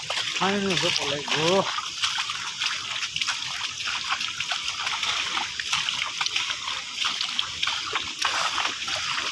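Water splashes and sloshes steadily through a flooded area after very heavy night rain, a continuous close wash of churning water, with a brief voice-like call at the start.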